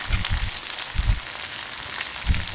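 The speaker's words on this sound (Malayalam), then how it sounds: "നല്ലപോലെ മൊരിച്ചെടുത്ത് സ്റ്റൗ ഓഫ് ചെയ്യുക" A tempering of onion and curry leaves crackles in hot oil on the stove for a Kerala fish curry, a soft continuous sizzle broken by a few dull low thumps, close by, with no voices.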